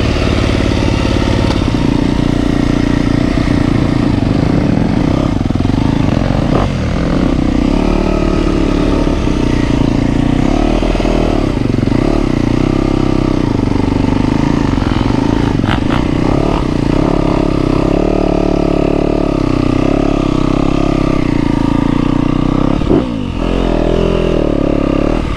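A Yamaha YZ250F dirt bike engine drones loudly and continuously while riding a motocross track, with fluctuating revs and clatter, recorded close to the rider throughout.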